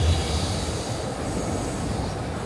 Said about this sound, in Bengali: উপর দিয়ে ট্রেন যাচ্ছে, নিচ দিয়ে রাস্তা